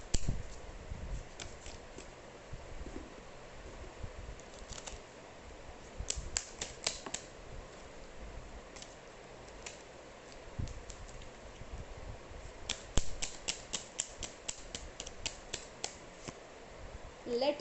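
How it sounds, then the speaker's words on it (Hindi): Tarot cards shuffled and pulled by hand, giving bursts of quick crisp riffling clicks in two main clusters with quieter handling and soft rustling between, close and moderately faint, with no talking. "I'll just pull some more cards for you guys."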